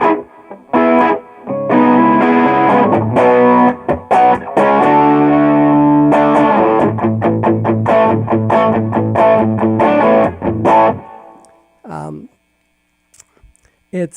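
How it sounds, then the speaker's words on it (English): Overdriven electric guitar played through a Fat Larry pedal, a Dumble-style amp emulator, ringing out in loud sustained chords and phrases with some reverb, then cutting to near silence near the end. "that's the Fat Larry pedal, and that emulates the Dumble amplifier"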